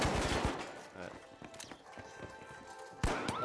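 Revolver fire aimed at a turret in the shooter game The Finals: a few sharp, close shots spread over a few seconds amid game noise, with a loud burst near the end and talk underneath.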